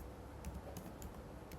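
Fingers type code on a computer keyboard in a steady run of soft clicks, close and fairly quiet, with no talk.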